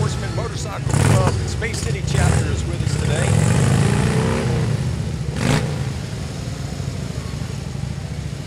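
Motorcycles of a police-affiliated motorcycle club rumble past in a Fourth of July parade in Friendswood, a steady engine drone with brief revs, moderately close, beneath crowd noise and a voice on a loudspeaker.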